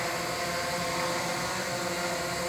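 Steady, dense whirring of a DJI Mavic Pro Platinum drone's propellers at home, constant and fairly close, a broad buzzing hum with no voices over it.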